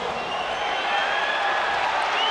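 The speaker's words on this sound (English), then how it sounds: "I have never heard a crowd like this before. Oh, it's deafening." A huge arena crowd at a UFC bout between Chuck Liddell and Tito Ortiz, a continuous dense roar close and loud, steady for the whole stretch with no break.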